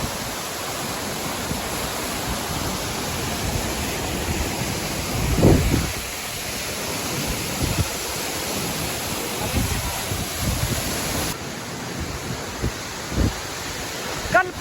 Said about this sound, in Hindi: क्या फुहारा आ रही है सर, मजा आ गया भाई।